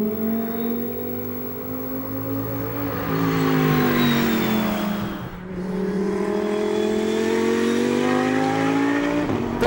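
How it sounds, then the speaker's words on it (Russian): An Audi R8 LMS Ultra GT3 race car engine howls close and loud, rising and falling through revs with a dip near the middle, a continuous roar with no talk. "и этот движок, ну, сами послушайте"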